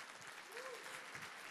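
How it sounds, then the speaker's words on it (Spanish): Congregation applauding during a church service, a steady wash of clapping that fills the brief moment, with a voice rising faintly through it. "Dale un aplauso al Señor."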